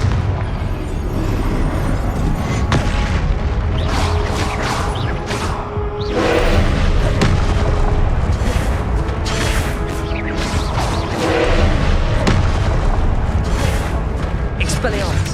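Confringo blasting spells go off in Hogwarts Legacy as repeated explosive bursts and booms over a loud, busy battle din, with voices calling out throughout.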